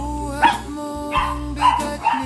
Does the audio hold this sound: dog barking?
yes